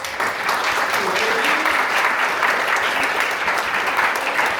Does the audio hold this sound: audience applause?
yes